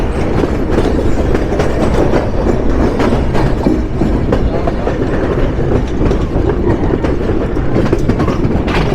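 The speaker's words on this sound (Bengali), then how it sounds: "উত্তরের নবাব প্রবেশ করলো সান্তাহারে" The Panchagarh Express rolls into Santahar railway junction with a loud, continuous rumble and rhythmic clickety-clack of wheels on the rails, heard close and steady throughout.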